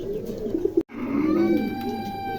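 Pigeons at a pigeon market coo in soft, rolling calls that run through the clip, with one abrupt brief gap before the cooing resumes alongside faint higher chirps.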